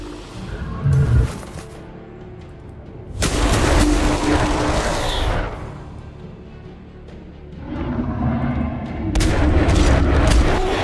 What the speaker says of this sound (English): And I'm just going to shoot yous.